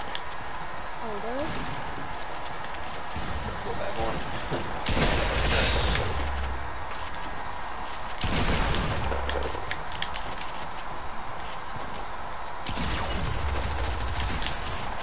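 Gunfire in a video game, bursts of loud cracking shots in several clusters over continuous background noise, with a voice talking over parts of it.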